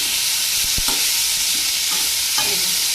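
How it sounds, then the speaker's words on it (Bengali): Eggplant slices frying in a little oil, a loud, close, constant sizzle with a few utensil clicks and scrapes. "অল্প তেলেই বেগুনটা ভাজা হয়ে যায়"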